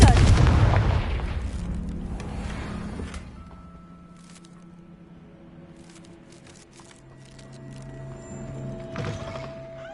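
A Confringo spell explodes in Hogwarts Legacy on PS4 with a single loud, close blast that decays into a long rumbling tail, followed by scattered clicks, soft tones and other quieter game sounds.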